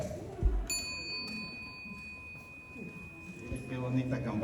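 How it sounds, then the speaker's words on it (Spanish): A small hand bell, rung in a church setting, gives one clear ring that sustains as a long fading tone, with some background shuffling and a low thump. "¿Por qué el diácono tocó la campana?"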